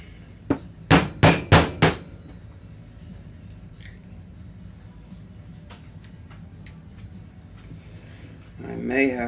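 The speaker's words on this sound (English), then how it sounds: "Need a small hammer." A small hammer taps on a sleeve in the case of a Traxxas TRX 2.5 during a rebuild, with a quick burst of five sharp metallic knocks followed by a few fainter scattered taps and light handling noise.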